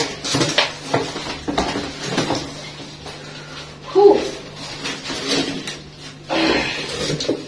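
White ceramic dishes are lifted from packaging and handled, producing several close, sharp clinks and knocks spaced irregularly, with a voice talking at times between them.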